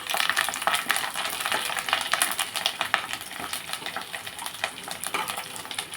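Mustard seeds, cumin, fenugreek and dried chillies crackle and sizzle in hot oil for a tempering, a dense continuous frying hiss studded with sharp popping seeds, close and steady throughout with no talk.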